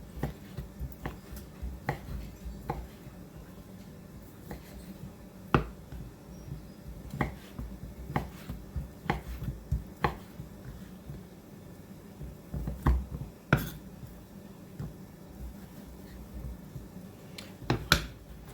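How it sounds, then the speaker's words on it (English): Steady, irregular knife taps chopping cooked chicken on a cutting board, sharp and close, repeating over a low background hum with no talking. "as I've been chopping my chicken"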